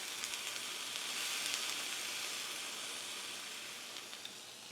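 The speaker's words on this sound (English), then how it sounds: "I'm gonna go ahead and throw those pine nuts in, and about a tablespoon of the balsamic vinegar" Pine nuts and a tablespoon of balsamic vinegar sizzle and hiss steadily in a hot pan while a steak dish is cooked, a dense, close frying crackle that holds at an even level with no talking.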